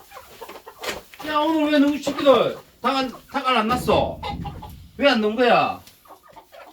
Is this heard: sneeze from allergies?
no